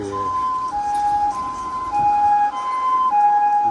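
An ambulance siren wails loudly and close by on a Tokyo street, its two-tone pitch alternating steadily over low traffic rumble.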